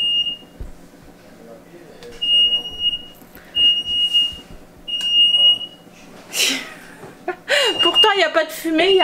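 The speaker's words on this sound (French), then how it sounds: "Il y a le truc de l'alarme qui s'est mis en route." A smoke alarm sounds in repeated shrill beeps, interrupted by bursts of rustling and clattering, with people laughing and talking near the end.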